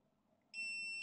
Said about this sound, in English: it'll just take a little bit longer to make the thing beep in my experience.